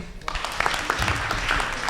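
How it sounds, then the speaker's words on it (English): An audience at a rebranding session claps briefly for someone, with dense, close hand claps under a bit of talk. "Let's clap for him."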